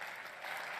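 Lukewarm applause from a CPAC political conference audience, a brief, faint, diffuse patter of clapping from a distant crowd.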